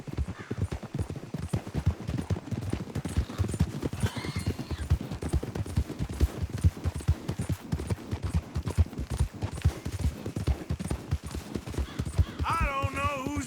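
Horses gallop in a race in Red Dead Redemption 2, with rapid steady hoofbeats throughout, a whinny near the end, and voices talking over them.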